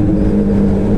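Motorcycle engine running with the Yoshimura exhaust tip removed, leaving only the bare pipe: a loud, steady, deep droning roar held close for about a second.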